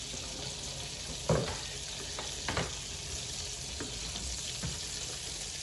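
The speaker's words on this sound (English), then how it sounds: "I have the sauce cooking on a low heat" Sauce for a seafood boil cooking on low heat, a steady soft sizzle and bubbling with a few brief clinks and stirring knocks over it, no talk.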